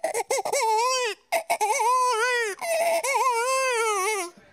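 A voice imitates a crying baby in a run of loud, close, wavering wails broken by short gasping pauses, rising and falling for several seconds before trailing off.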